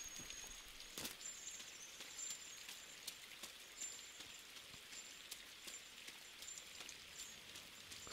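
Steady rain in the game INSIDE, a soft continuous patter with scattered sharper drops, faint and even throughout.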